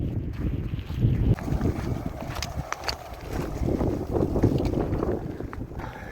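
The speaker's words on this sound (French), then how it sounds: "En montée, sous la pluie et avec le vent de face." Steady wind buffeting the microphone with rain pattering, heard while cycling uphill into a headwind in rain on the way to Monesterio, Spain; constant rumbling gusts with scattered sharp ticks and taps, close and moderately loud, no talk.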